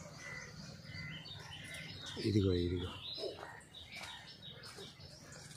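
Two or three small birds feeding on guava fruit in a guava tree outdoors, chirping faintly and intermittently while a nearby voice speaks.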